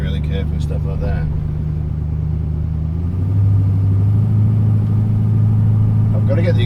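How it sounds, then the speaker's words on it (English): An old Plymouth with a worn exhaust drones loudly while driving, a steady low rumble that deepens and grows louder partway through. A voice speaks briefly at the start and end. "I don't like the droning. It's just too noisy."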